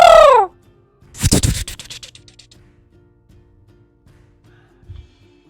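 An automatic rooster crow sound effect plays in a 3D modelling program: a short falling harmonic cry followed by a loud raspy burst that fades out, then near silence with a faint thump.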